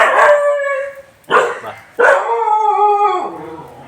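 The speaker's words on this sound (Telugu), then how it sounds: "ఆడ కుక్కలు రచ్చ చూడండి ఫ్రెండ్స్" Several dogs howl in drawn-out, wavering tones, breaking off briefly twice before the chorus swells again; loud and close, with no talking.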